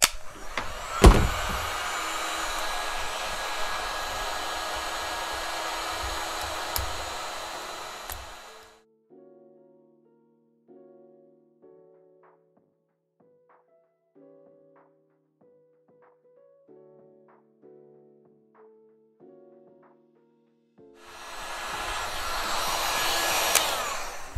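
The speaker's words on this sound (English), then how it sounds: "now that the heat gun is preheated" A heat gun runs with a steady, loud whooshing blow, goes quiet for a long stretch filled with faint tonal beeps, then starts blowing again near the end.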